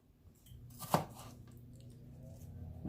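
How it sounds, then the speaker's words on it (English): A knife chops through an onion on a cutting board in a home kitchen during quiche preparation, a single sharp nearby chop standing out over a low steady background hum. "My chopping skills for an onion was very strange just then"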